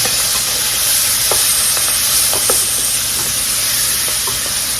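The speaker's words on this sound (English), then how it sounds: "I'm going to drop it all in into that grease." Bell peppers, onions and fresh garlic sizzle steadily in hot grease in a pan, a loud continuous frying hiss with faint scattered pops and clinks, no talking.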